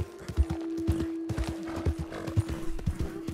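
Horse in the game Red Dead Redemption 2 gallops in rapid, rhythmic hoof clops, close and moderately loud, with a steady tonal drone beneath.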